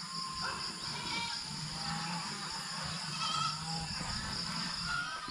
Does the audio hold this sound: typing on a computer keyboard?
no